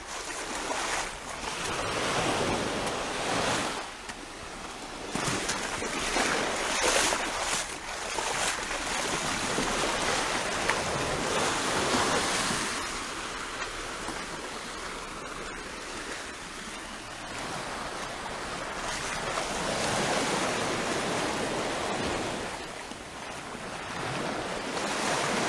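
Ocean waves wash steadily onto Heywoods Beach at daybreak, a continuous broad surf roar that swells and recedes, with some wind buffeting the microphone and no voices.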